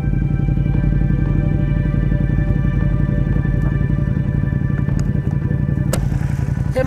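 A Ducati Panigale V2 motorcycle engine idles and revs with a loud, close, steady throbbing rumble, a crackle breaking through near the end.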